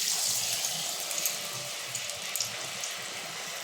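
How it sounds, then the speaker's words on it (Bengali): Battered pieces frying in hot oil, a dense steady hiss and bubbling crackle heard up close throughout, with no talking. "ডুতে এভাবে ভেজিয়ে চুবিয়ে চুবিয়ে আমি এটা তেলে দিয়ে দেবো"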